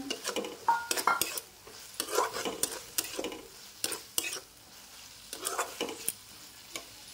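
Potatoes tipped into a pan of spice paste that has cooked until its oil separates, then stirred, giving bursts of sizzling frying and scraping clatter against the pan in uneven strokes, close and moderately loud with no talk.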